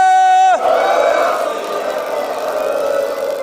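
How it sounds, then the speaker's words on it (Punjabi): At a Sikh seminar at Sri Chamkaur Sahib, one loud sustained shouted call ends and a large crowd answers with a roaring jaikara war cry of Sat Sri Akal, swelling and then holding steady. "ਸਾਰੇ ਜਕਾਰੇ ਦਾ ਪੂਰਾ ਗੱਜ ਵੱਜ ਕੇ ਸਾਥ ਦਿਓ ਜੀ"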